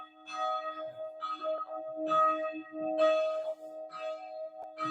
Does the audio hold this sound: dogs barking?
no